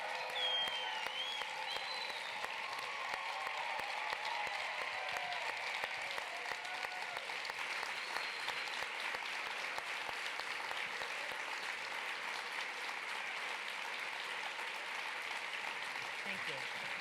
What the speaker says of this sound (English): can you help me give a hearty, thunderous applause to Mrs. Denyce Graves-Montgomery.